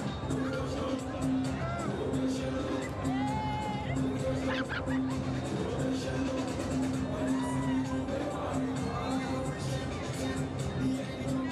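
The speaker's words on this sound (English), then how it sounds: "Big crowd in the house." A big, noisy crowd at a cricket match, the CPL 2016 final between Guyana Amazon Warriors and Jamaica Tallawahs in Guyana; constant babble with horns, whistles and shouts throughout, and a commentator talking over it.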